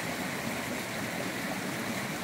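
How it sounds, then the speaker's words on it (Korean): Clear mountain stream in a deep valley gorge, water running steadily under fallen trees and over rocks, a continuous close rushing and burbling wash with no pauses and no voices. "이 골짜기에 이렇게 맑은 수정같이 맑은 시냇물이"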